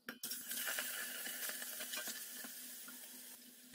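Beef cubes dropped into a hot pot to sear, giving a sudden onset of loud, steady broadband sizzling that carries on with small crackles and pops throughout.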